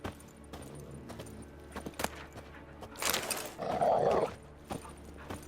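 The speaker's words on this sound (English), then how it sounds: "That's a big dog." A large dog in The Witcher 3 video game growls and whimpers midway through a burst of game sound effects. Clicks and scattered taps surround it.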